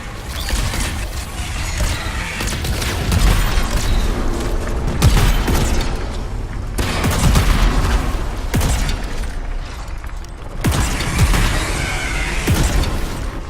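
A shotgun fired in the video game Anthem: repeated booming blasts spaced a second or two apart over a constant loud rumble of game action.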